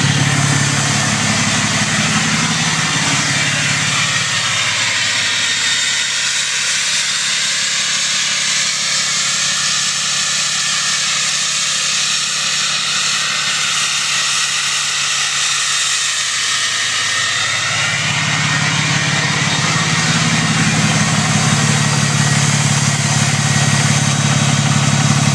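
A diesel truck engine warms up with a loud, steady drone while its VGT turbo kicks in, the pitch rising into a whine partway through before settling back to a rumbling idle.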